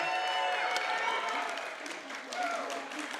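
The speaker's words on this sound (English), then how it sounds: "can we get some hype from the crowd for our last matchup?" Crowd at a live esports championship event in Denver cheering and applauding, a dense sustained roar of claps and shouts that stays loud throughout and swells again near the end, with a voice over it.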